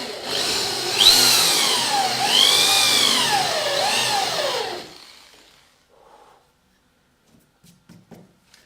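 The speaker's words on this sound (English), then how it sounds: "We're going to drill an eye socket here with a 5/8 16mm Forstner bit." A power drill fitted with a 16mm Forstner bit bores a shallow eye socket into wood for a rocking horse, a loud whining grind that rises and falls for several seconds, then stops, leaving faint handling knocks.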